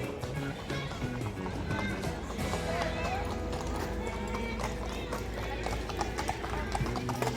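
Horse hooves clip-clop steadily on pavement as a kalesa carriage passes at a Christmas market, the brisk rhythm sitting under music, crowd noise and nearby people talking.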